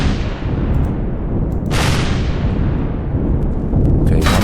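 Turret gunfire and explosions rage in the Empyrion space survival game, a loud, continuous barrage of booming blasts with sharp bursts flaring up at intervals, close and dense throughout.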